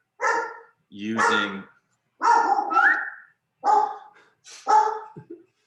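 A dog barks at the mailman in a series of about five sharp, loud barks spaced roughly a second apart, close to the microphone, with a voice speaking briefly among them.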